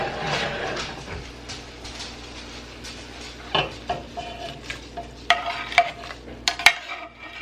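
Pizza soup ingredients are combined and stirred in a pot, with soft swishing that turns into sharper clinks and scrapes of a utensil against the pot near the end.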